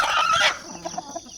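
At early morning on a farm, a rooster's loud crow is followed by a few short, softer hen clucks nearby.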